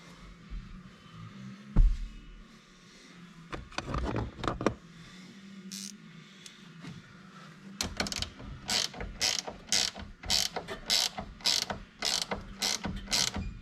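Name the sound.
tightening nuts on tow mirror bracket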